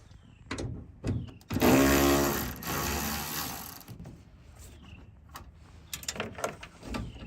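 A ratchet wrench clicks steadily as it backs 8 mm bolts out of a Ford F150 tail light, one loud, sustained stretch of ratcheting in the middle, with scattered lighter clicks and knocks around it.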